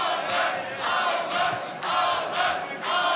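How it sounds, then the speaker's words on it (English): Crowd at a professional boxing bout shouting and cheering in repeated swells that rise and fall, loud and roaring, with faint commentary beneath. "The crowd trying to get behind him as well."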